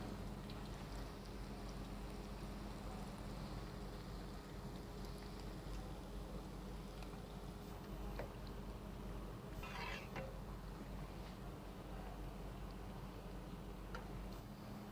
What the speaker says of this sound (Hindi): इसी तरह ये सब पीस जो है ना वो फ्राई कर लेंगे।